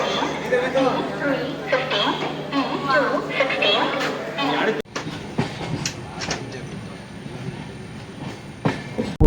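An Amrit Bharat Express train rolls into Coimbatore Junction with rhythmic clickety-clack and rumbling, wheels and cars clattering close by, while people chatter throughout.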